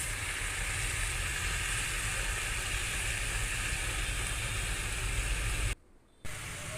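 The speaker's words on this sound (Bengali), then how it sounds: "ভালো করে ভাজা ভাজা করে নেব।" Drumstick greens and barma greens fry in a pan, giving a steady close broadband sizzle that runs unbroken before a brief dropout near the end, then resumes.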